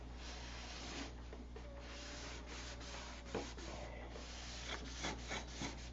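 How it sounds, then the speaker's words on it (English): Wood being sanded by hand on a model aircraft build, steady close rubbing strokes with a few louder scrapes, over a constant low hum. "I guess we can start sanding this."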